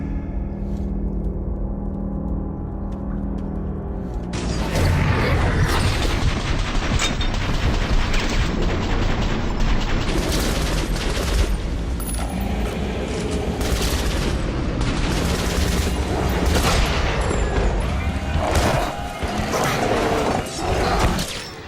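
Heavy gunfire and crashing mayhem from the video game Metro Last Light, dense bursts and booms rolling on almost without a break at high, steady loudness after a quieter opening few seconds.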